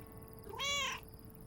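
Mortimer, a cat in the video game Lake, gives a single clear, mid-length meow over a quiet game background.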